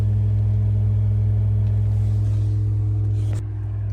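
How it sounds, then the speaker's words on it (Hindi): Steady low hum and rumble inside a Tata Nexon EV after 2000 km of use, a constant droning tone with felt vibration, holding level throughout and dipping slightly near the end, with no talk over it. "ये देखो भाई गाड़ी में कितना साउंड आ रहा है, ये देखो नीचे कितना वाइब्रेशन फील होगा आपको।"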